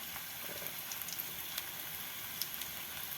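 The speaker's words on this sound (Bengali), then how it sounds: "বলগুলো কিন্তু একেবারে লো ফ্লেমে ভাজতে হবে" Maggi pakora balls frying in oil over a low flame give off a quiet, steady sizzle dotted with small crackles and pops, with no talking.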